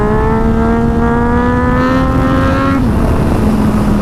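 Yamaha FZ-09/MT-09 motorcycle engine revving steadily higher under acceleration for a wheelie, then dropping sharply back toward idle near the end; loud and close, with no talk.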